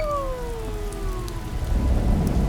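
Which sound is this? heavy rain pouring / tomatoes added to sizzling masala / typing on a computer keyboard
heavy rain pouring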